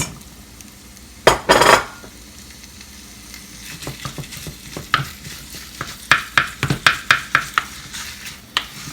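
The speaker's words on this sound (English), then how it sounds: "I add my minced meat." Minced meat fries with cabbage in a pan, giving a low sizzle that sits under a sharp metallic clank early on and then a run of rhythmic utensil taps and scrapes as the meat is broken up.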